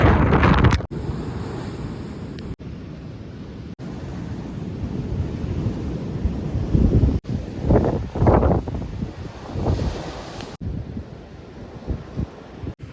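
Strong gusting wind buffets the microphone in a coastal setting during a big storm, with roaring sea surf beneath; loud, continuous rumble with repeated gust bursts and no talking.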